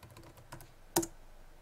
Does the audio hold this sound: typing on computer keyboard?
yes